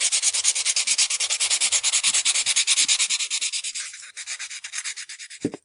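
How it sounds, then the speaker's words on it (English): A hairpiece being sanded back and forth, a close, rhythmic rasping scrape repeating about four times a second, then slowing into a few uneven strokes before ending with a small knock. "as you sand back and forth like this, you will get a little bit of a burr"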